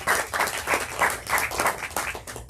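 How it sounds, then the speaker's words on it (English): Applause for an author at a book event: a small audience clapping steadily for a couple of seconds, moderately close and fairly soft, with no talk over it. "I think you get a round of applause for that."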